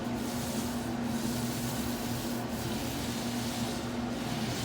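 A Purdy Ultra paint roller rolls paint onto a wall with a steady, soft, sticky rubbing hiss, continuous and close with no pauses.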